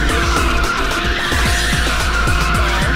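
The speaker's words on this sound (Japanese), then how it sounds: "いいドリフトじゃ。" A car drifting in the racing video game Ridge Racer 6 on the Highland Cliffs course, with sustained loud tire squeal and skidding over a constant roaring engine, continuous throughout.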